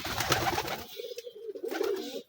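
A few pigeons kept at home coo in low, rounded, repeated calls close by, preceded by a brief burst of rustling and flapping noise.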